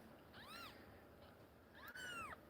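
A kitten lets out two high, rising-and-falling meows, close and fairly clear, with a short pause between them and no talking.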